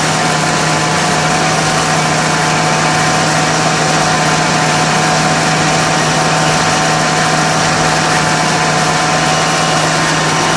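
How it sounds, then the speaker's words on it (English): A 1995 Ford F-250 4x4 engine idles with a steady, close, loud hum and vibration while the AC compressor kicks on during recharging, with no clear change in the drone. "I heard the compressor kick on just a little bit."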